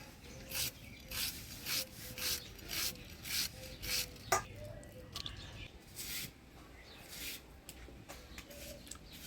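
Fish rubbed by hand with turmeric and salt, a soft rhythmic rasping and squelching in even strokes with a few sharper clicks, quiet and close.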